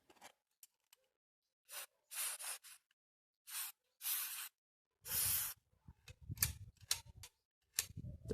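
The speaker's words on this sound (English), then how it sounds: "Magic spray, dry teflon or dry PTFE" Dry PTFE lubricant sprayed from an aerosol can onto a mortice lock: a string of short hissing bursts of varied length, each sharp-edged and close, with brief silences and faint clicks and handling noises between them.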